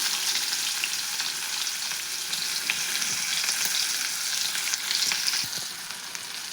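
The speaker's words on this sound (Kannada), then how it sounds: "ಈಗ ಉಳ್ಳಾಗಡ್ಡಿ ಹಾಕೈತಲ್ರಿ, ಇದನ್ನು ಎಣ್ಣೆ ಒಳಗೆ ಫ್ರೈ ಮಾಡೋಂತ." Chopped onions frying in hot oil with mustard seeds and cumin for a cabbage palya, a steady dense sizzle with light stirring crackles throughout, close and fairly soft.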